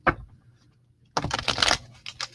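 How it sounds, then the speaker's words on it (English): Tarot cards are shuffled by hand, with a brief riffle followed by a louder, crisp burst of rapid flicking and slapping cards. Each burst is close and clear, with no talking. "I have tarot cards. We're going to shuffle them up and spread them out."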